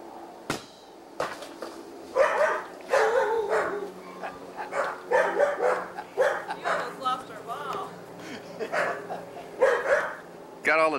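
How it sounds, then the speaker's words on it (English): Several dogs bark and yip in sharp, uneven bursts, some close and some farther off, carrying on excitedly across the stretch with a few whimpers mixed in. "Got all the dogs stirred up now."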